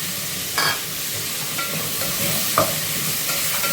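Drumsticks for sambar are tipped into a hot pan and stirred, making a constant loud sizzle with a few sharp scrapes and knocks of the spoon, and no talking.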